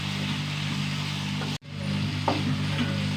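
Food sizzles steadily in a hot pan on a home stove while a spoon stirs it, a continuous close frying hiss broken by a brief cut and a soft scrape of stirring.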